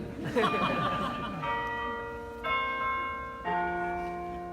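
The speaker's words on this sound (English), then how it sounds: "I guess the bells like that too." Church bells ring out during an outdoor rally, three or four loud, clear strikes whose tones hang and fade between hits, with brief crowd chuckling at the start.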